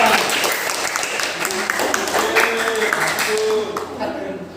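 A classroom of pupils claps steadily for group 1 as they come forward to present their poster. The applause is loud and dense, with voices and chatter mixed in throughout.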